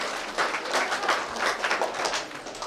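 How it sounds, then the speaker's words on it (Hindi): An audience at a Hindi kavi sammelan poetry gathering breaks into loud, sustained applause. Dense, uneven clapping fills the hall throughout with no talk over it. "एक बार अपने लिए जोरदार तालियां बजाइए"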